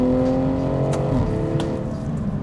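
Stage 2 tuned BMW M340i G20 six-cylinder engine accelerating, a loud, steady engine note that holds throughout with no pauses, close up and without talk.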